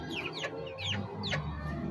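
Heritage chickens, roosters and hens in a backyard shelter, give a few sharp, close clucks in quick succession over a soft farmyard murmur.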